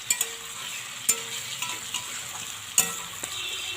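Snake gourd is fried slowly in a pan, giving a soft continuous sizzle broken by a few sharp clicks and taps of a utensil, moderately close, with no talking.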